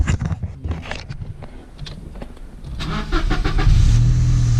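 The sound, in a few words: Toyota Aygo engine starting up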